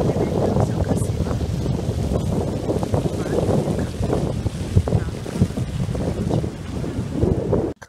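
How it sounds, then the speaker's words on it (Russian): Strong seaside wind roaring into the microphone in a park by the sea, a continuous heavy rumble with small gust bumps throughout. "Но это сейчас очень ветрено у нас."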